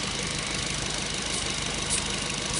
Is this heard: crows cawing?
no